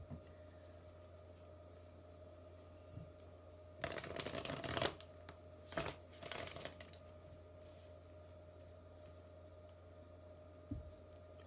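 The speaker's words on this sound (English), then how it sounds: "we're going to pull cards for them now" Tarot cards shuffled by hand in two loud bursts of riffling, then brief quieter handling, with a steady low hum underneath and no talking.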